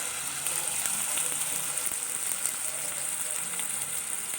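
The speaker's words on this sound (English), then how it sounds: "Now my oil is heated. I'm going to put the onions, chopped onions." Two big chopped onions hit heated oil for chana masala, giving a steady, even sizzle and crackle of frying that stays constant and fairly close, with no talk over it.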